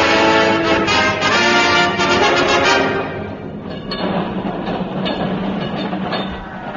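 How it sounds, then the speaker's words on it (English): A London tram rolls past on its last run, a loud rumbling rail passage close by with wheel clatter that fades slightly as it moves away. "there goes the last tram"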